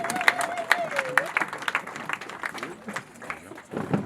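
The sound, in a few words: congregation applause in church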